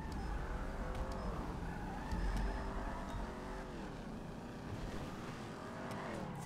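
Car driven in GTA V Online, a continuous engine hum with repeated rising and falling pitch as gears shift and speed changes, steady and fairly close throughout, no talk.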